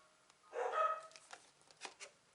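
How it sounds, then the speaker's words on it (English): Dogs bark indoors in the background, a brief burst of muffled yaps followed by a few fainter scattered barks, moderately distant. "Sorry, my dogs are barking."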